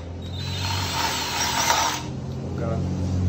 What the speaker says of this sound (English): drill them out like this.